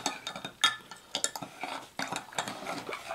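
A spoon clinks and scrapes against a bowl while ground black pepper and seasoning for smoked brisket burgers are stirred, giving a quick, irregular run of close metallic taps and scrapes with no talk.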